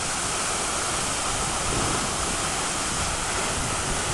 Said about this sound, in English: We are here at the GitGit waterfall.